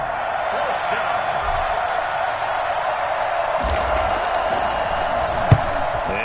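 A steady roar of crowd noise and cheering fills the stadium in a Madden football video game, with a sharp knock near the end.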